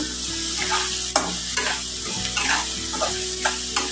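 Onion and tomato fry in a pan, a constant close sizzle broken by repeated spoon scrapes and stirring knocks, with no talk.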